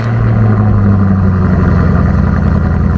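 A Dodge Challenger Hellcat, nearly 1000 hp and rear-wheel drive, rumbles loudly at idle up close from behind the car, a steady deep burbling throb with no breaks.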